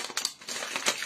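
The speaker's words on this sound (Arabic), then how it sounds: "نحطمو شوكولا نوار." Dark chocolate broken into pieces for traditional truffles gives quick crisp snaps and crackles, several sharp breaks close up within about a second, with no talking.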